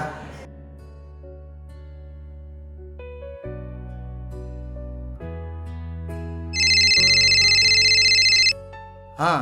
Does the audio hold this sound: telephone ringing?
yes